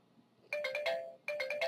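A phone ringtone sounds for an incoming verification call, two bursts of bright, repeating electronic chimes separated by a short pause, moderately loud against a quiet room.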